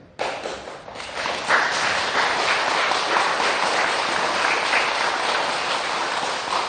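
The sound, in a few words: audience applause at a Buddhist dharma talk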